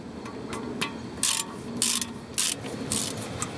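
A hand ratchet clicks as it loosens a 10mm bolt on an ABS line holder during car suspension work, giving several quick bursts of sharp, close metallic ratcheting with brief pauses between strokes.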